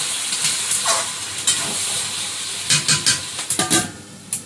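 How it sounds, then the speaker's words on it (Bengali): Chicken meat and spices sizzle and hiss in a covered pan, a steady steamy frying noise with a few short louder crackles and stirring scrapes toward the end, close and without talk. "মাংসটা একটু ঢাকা দিয়ে দিয়ে কষিয়ে নিচ্ছি"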